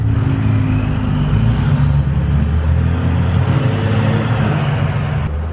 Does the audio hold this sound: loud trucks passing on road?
yes